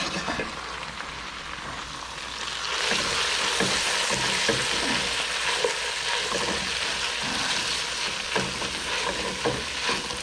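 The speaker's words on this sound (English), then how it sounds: "Dumping in the pasta. Just got all the onions in here." Fettuccine and onions fry in a pan with a close, hissing sizzle that swells louder after a few seconds, mixed with scraping stirs and no speech.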